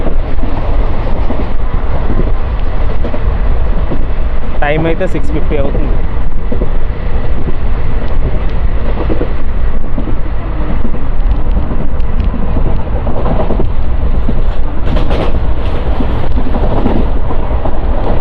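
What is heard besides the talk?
Palnadu Superfast Express train running with ICF coaches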